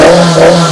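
A classic car engine fitted with Weber carburetors roars loudly and close, giving a brief, steady burst of throaty intake sound.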